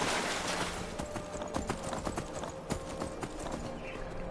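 Horse hooves clop steadily in Skyrim, a continuous rhythmic beat of hoofbeats under a dense, even game soundscape that stays at a constant level throughout.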